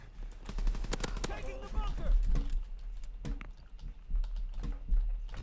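Machine gun fire in Call of Duty WWII, rapid sharp bursts of shots clustered near the start and recurring in shorter volleys, mixed with game noise and a voice speaking.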